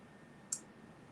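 A single crisp computer mouse click, close and brief, set against a quiet room hum.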